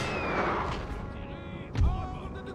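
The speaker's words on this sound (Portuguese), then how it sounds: "Mas os tiros de canhão podem ser úteis aqui." Cannon fire in the video game Napoleon: Total War during a rainy battle, dull booming shots with one close heavy blast near the end over a continuous battle din.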